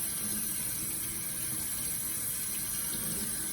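Tap water runs steadily during a surgical hand scrub before an operating room, a continuous broadband rush of rinsing at a sink that holds evenly from start to finish with no talking.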